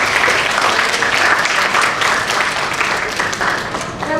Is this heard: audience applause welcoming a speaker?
yes